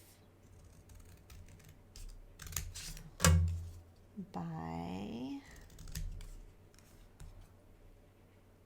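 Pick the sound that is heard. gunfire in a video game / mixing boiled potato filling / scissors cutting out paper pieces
scissors cutting out paper pieces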